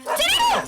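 A dog named Jackie lets out a single short, high bark-yelp, close and loud, lasting under a second with a whiny rising-falling tone.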